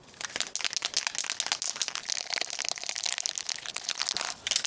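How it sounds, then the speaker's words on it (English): An acrylic spray paint can is shaken outdoors in heavy wind, producing a rapid run of crinkly, rattling strokes that continue steadily for several seconds at close range. "So I'm going to give this paint can a bit of a shake."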